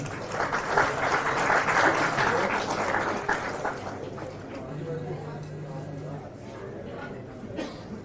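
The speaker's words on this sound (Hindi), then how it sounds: "जोरदार तालियों से स्वागत कीजिए।" An audience at a commemorative school event honouring martyrs gives sustained applause, loudest at first and then gradually thinning, with a faint tonal hum and background murmur.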